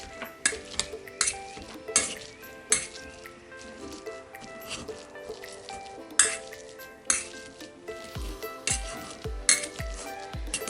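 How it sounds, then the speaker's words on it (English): Chickpeas being mashed with a potato masher for an avocado chickpea sandwich, giving repeated soft squishing presses and occasional metal clinks against the bowl, fairly close, with a faint voice in the background. "because I have a potato masher here, this makes it a little bit easier, we have a potato masher"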